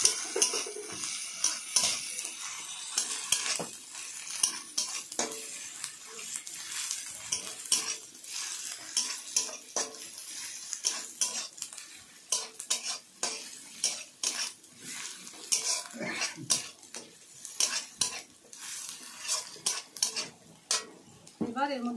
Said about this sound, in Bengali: এবার এর মধ্যে অর্ধেক চামচ রসুন বাটা দিয়ে দিলাম, পেঁয়াজের সঙ্গে ভালোভাবে ভেজে নেব